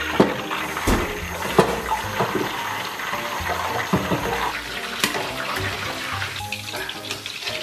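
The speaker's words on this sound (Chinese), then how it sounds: "现在锅里边已经开始噼啪作响了" Pork belly frying in shallow oil at low heat in a wok, giving a steady dense crackle and sizzle with scattered sharper pops, close and continuous throughout.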